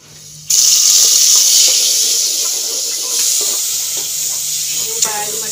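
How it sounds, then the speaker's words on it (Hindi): Potatoes being washed in running water at a kitchen sink, a steady broadband rush of water with small splashes and knocks throughout, close and fairly loud. "आलू धो लेने मैं"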